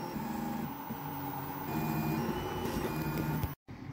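A 3D printer runs steadily through a print with a constant hum and tonal stepper-motor whine that shifts in pitch as the head moves, stopping abruptly near the end.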